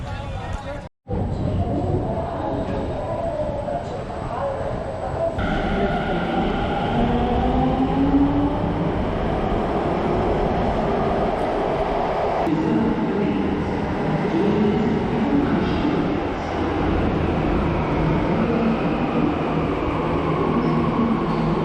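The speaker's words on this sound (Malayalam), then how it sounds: "മെട്രോയിലേക്ക് കയറിയിട്ട് നമ്മൾ ഇനി അങ്ങോട്ട് പോവുകയാണ്" Inside a moving metro train, a steady loud rumble of wheels and carriage noise runs throughout, with a brief dropout near the start and voices talking faintly over the din.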